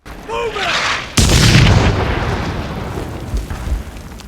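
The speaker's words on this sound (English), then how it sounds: "So many explosions at all times." A sudden heavy boom bursts in after a brief whistling sound in a war series battle scene, followed by a long rumbling, crackling decay of explosions, loud and close.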